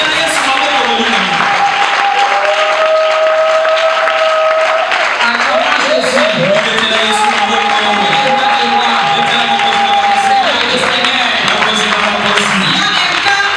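A church congregation claps and cheers in sustained, loud applause. Voices and sustained musical tones ring over the steady clapping throughout.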